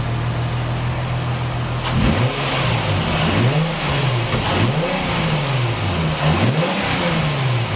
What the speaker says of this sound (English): Zave, give me some revs.